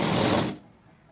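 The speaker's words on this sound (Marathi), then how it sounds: "नंतर शिलाई मारून घेणार आहोत." A sewing machine stitching a box strip onto a blouse gives a brief burst of dense mechanical whirring that stops abruptly after about half a second, leaving quiet room tone.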